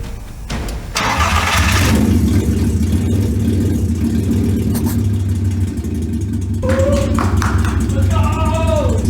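A swapped engine in a Porsche cranks briefly, then catches and runs steadily at a loud, close idle for several seconds, with faint voices near the end.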